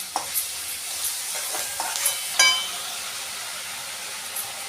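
Onion with turmeric being sautéed in a pan for kanda batata poha, a soft continuous sizzle broken by several sharp spatula scrapes and clicks, one louder knock near the middle.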